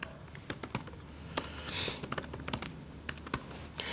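Rapid keystrokes on a computer keyboard while C++ code is entered, an irregular run of sharp close clicks and taps with short pauses, alone without talk.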